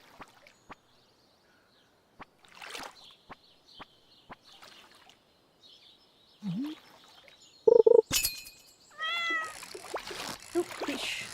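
A cat meows briefly amid sparse clicks and small scattered noises, followed by brief game sound effects and chiming tones.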